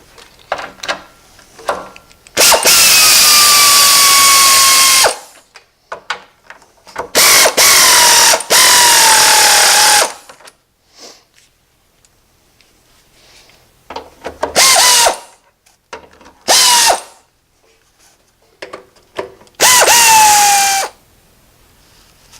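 A cordless power tool drives bolts into a TeraFlex Alta cargo rack in loud, close bursts of a few seconds each, its whine rising and falling, separated by quiet gaps and small clicks and handling noises; no speech.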